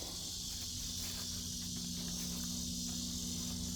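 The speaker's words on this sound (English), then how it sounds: "You can hear all the cicadas." A constant shrill cicada drone holds steady throughout in a backyard, with a low mechanical hum underneath and no talking.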